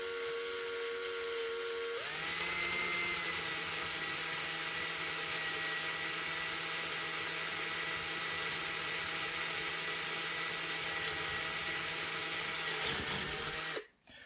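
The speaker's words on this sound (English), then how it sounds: "We'll start off our hole just like the other one and go nice and gently, just using the weight of the drill." A drill bores a hole through a mini XLR connector, pressing only with its own weight: a steady high whine running for about twelve seconds before stopping, with no talk.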